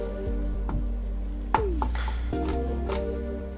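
Garlic is chopped for pork barbecue with a knife on a board, several sharp irregular knocks close by over a low steady background hum.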